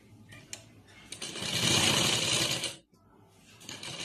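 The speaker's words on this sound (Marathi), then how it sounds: "अशा प्रकारे त्यावर आपण परत एक व्यवस्थित टीप देऊन घेऊ।" Sewing machine stitching the lining of a princess-cut blouse, a steady loud whirring run that builds and holds for over a second, stops abruptly, then resumes more quietly after brief lighter clicks.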